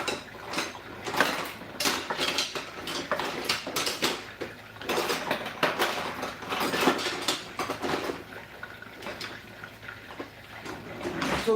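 Metal utensils and pans clatter and scrape in irregular bursts, close by, with occasional clinks and knocks against a quiet background.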